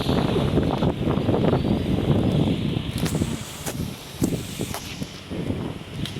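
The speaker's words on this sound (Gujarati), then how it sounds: "પવન બહુ મસ્ત આવે." Wind blowing outdoors after rain, gusting loudly against the microphone with a continuous rough rumble and a few light rustles and taps.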